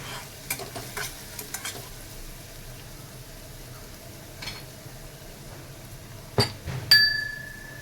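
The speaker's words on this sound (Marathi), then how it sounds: "कांदा चांगला लालसर करायचा कच्चा राहायचा नाही ठेवायचा नाही" Onion frying in a pan while being stirred for a Maharashtrian masoor dal amti, a soft steady sizzle with scattered utensil scrapes and clinks, and a sharper metallic clink near the end.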